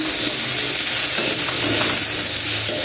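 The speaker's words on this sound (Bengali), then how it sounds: "একটু ভেজে নিই।" Food frying in a pan at home gives a steady, loud broadband sizzle with faint stirring clatter that runs unbroken for the whole stretch, with no voices.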